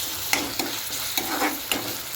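Ginger garlic paste fries in a pan for a brinjal curry, a continuous close sizzle broken by several sharp spatters and stirring scrapes, with no talking.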